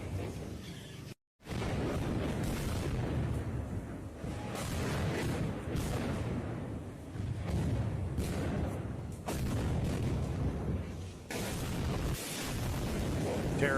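Rocket barrage in wartime Ukraine, with a continuous series of heavy booming blasts and rumbling impacts, one brief drop to silence early on, then repeated loud explosions rolling on without pause.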